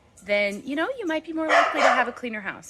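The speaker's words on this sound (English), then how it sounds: "Sorry about the dog." A dog barks and yips repeatedly at close range indoors in a home, its sharp bursts overlapping a woman's steady speech throughout.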